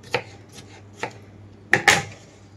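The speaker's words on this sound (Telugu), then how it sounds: "ఇప్పుడు వీటిని సన్నని ముక్కలుగా కట్ చేసుకుంటున్నాను" Knife chopping cucumber into thin pieces on a board for a dried-red-chilli cucumber chutney, four or five crisp, separate cuts, the last two closer together and louder, with no talking.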